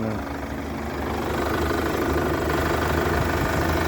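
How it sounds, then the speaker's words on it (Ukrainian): A 2012 Chevrolet Captiva 2.2 diesel engine idling quietly and steadily, a low, even rumble with a faint knocking texture throughout. "Двигунчик працює ну, тихесенько, не скажете, що це дизеляка."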